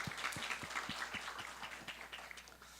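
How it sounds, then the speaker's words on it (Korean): Congregation applause at a high school church worship service, a steady crowd of claps with sharp individual hand claps standing out, sustained and fairly even throughout. "최고 영광의 박수를 다시 한번 힘있게 올려드립시다"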